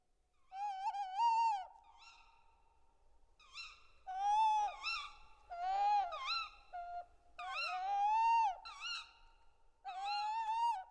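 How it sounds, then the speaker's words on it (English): A tawny owl pair hoots back and forth from an old tree cavity in a forest, a series of wavering, quavering calls, clear against a quiet night background. "a tawny owl calls out of an old tree cavity, to which its mate responds"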